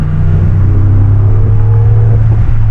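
A Dodge Charger engine idles with a deep, steady rumble while the throttle is tapped, its pitch lifting slightly with each light blip. It stays close and loud throughout, with no talking.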